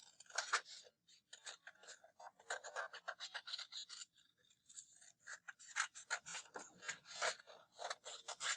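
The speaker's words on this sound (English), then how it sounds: "Okay, cutting my hand out." Paper snipped repeatedly with scissors while cutting out a traced hand shape, a close, quick series of crisp cuts with short pauses between bursts.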